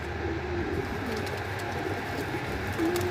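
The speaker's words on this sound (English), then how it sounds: "so that's the new squabs I was talking about" Young pigeon squabs in a loft sun cage, with soft cooing and low bird calls running steadily under a constant ambient hum, fairly quiet and close.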